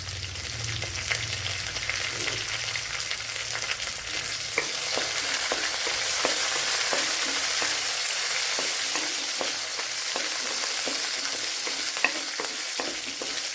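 Dried red chillies frying in oil in a pan for a brinjal curry, a loud steady hiss that builds and holds, with frequent small crackles and light stirring taps throughout.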